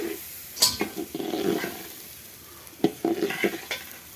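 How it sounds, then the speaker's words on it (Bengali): Rice being fried and stirred in a pan for pulao, with close scraping strokes of a spatula over a soft, steady sizzle and sharper clatters of utensil against the pan in short bursts. "বন্ধুরা, চালটা আমি সুন্দর করে ভাজি নেব।"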